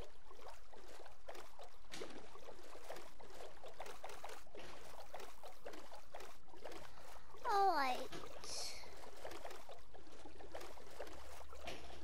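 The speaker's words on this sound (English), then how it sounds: "We are just sailing." A Minecraft boat moves across water, with soft, steady, rhythmic paddle strokes and gentle splashing repeating evenly at low volume.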